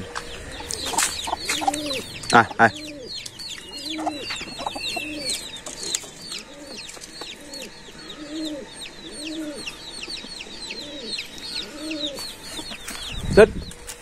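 Chickens on a duck-and-chicken farm clucking in a steady repeated rhythm close by, with birds cooing and chirping around them and a few sharp knocks and thumps.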